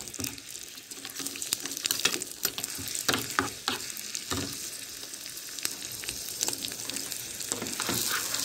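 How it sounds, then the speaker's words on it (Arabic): Garlic sizzles in hot oil for a mallow tasha, a steady close frying hiss broken by scraping clinks as it is stirred toward golden, with no talking. "هنقلب كده لحد ما التومه معانا تاخد لون ذهبي، وبعدين هنقفل عليها"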